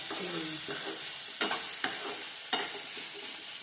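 Food roasting in a pan over a high gas flame makes a steady close sizzle, with a few sharp scrapes of stirring and clatters against the pan, no voices.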